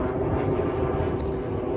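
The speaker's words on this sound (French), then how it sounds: "Il y a deux avions. Ah oui, il y a les avions de" Airplanes from the Cazaux air base fly overhead, giving a steady, broad engine roar that holds at an even, fairly loud level throughout, with no talking.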